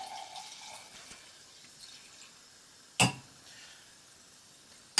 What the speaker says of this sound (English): So we'll pour that back into our mixture.